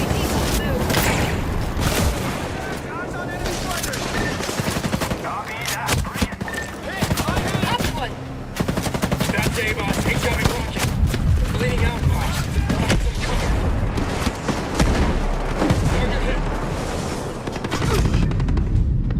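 A turret in Ghost Recon Breakpoint keeps up sustained, loud automatic gunfire mixed with heavier booms and mechanical clatter, dense and continuous under shouted voices.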